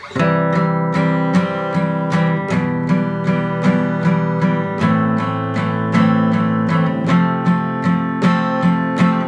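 An acoustic guitar strums chords in steady, even groups of six down strokes, shifting through the progression of a song with a bright, ringing tone and no voices.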